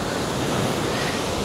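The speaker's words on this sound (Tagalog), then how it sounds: "Ang lakas-lakas ng alon." Strong ocean waves at Indira Beach in Botolan, Zambales, producing a loud, dense, continuous roar of surf mixed with wind buffeting the microphone, with no break.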